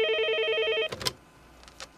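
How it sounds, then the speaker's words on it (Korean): A telephone rings late at night, with one steady electronic ring tone that cuts off abruptly, followed by a few faint clicks and knocks. "늦은 밤 걸려온 한 통의 제보 전화."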